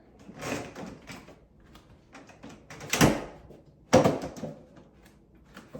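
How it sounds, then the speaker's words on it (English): A folding 3-in-1 bedside commode chair being collapsed, with soft rattles and shuffling followed by two loud clacking knocks about a second apart as the frame folds, close by and without speech. "and then collapse the chair."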